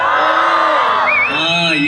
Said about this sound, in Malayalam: നല്ല എനർജറ്റിക് ആയിട്ട് എല്ലാവരും കൂവി